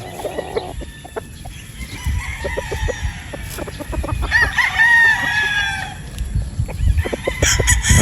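Gamefowl roosters crow and cluck nearby, with several overlapping crows rising over a steady background of clucking and rustling barnyard noise.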